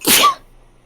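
A single close, loud sneeze bursts out sharply and fades within a fraction of a second, followed by near silence.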